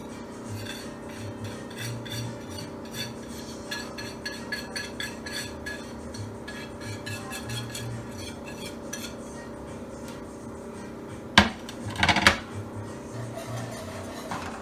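Steady scraping and rubbing of a whisk working flour into vegetable oil for a Caribbean seafood gumbo roux, a continuous metallic rasp with light clinks, ending in a couple of louder knocks against the pot.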